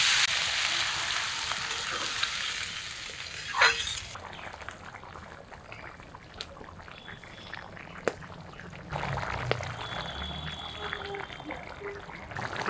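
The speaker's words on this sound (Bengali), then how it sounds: "এখন সব কিছু নেড়ে চেড়ে ভাজা ভাজা করে নিব।" Vegetables such as eggplant and radish frying with spices in a pan, a moderate crackling sizzle with intermittent knocks and scrapes of a spoon stirring, louder at the start and later bursts.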